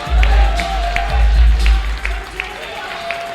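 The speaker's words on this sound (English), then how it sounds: "getting a very nice ovation from the Smash Wrestling" A wrestling crowd at a Smash Wrestling show gives an ovation, with rhythmic clapping and a low, steady roar from the audience filling the arena throughout.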